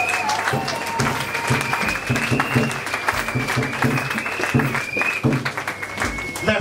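Party members of the Unified Lumumbist Party rising at a political meeting in the DRC applaud one another, steady dense clapping from a crowd, with music and voices mixed underneath throughout.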